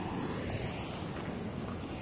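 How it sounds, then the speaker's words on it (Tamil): Steady broadband rushing of the Noyyal River near Coimbatore flows continuously, a dense wash of noise with no voices. "அந்த இடம் தண்ணி இவ்வளோ வருது பாருங்க"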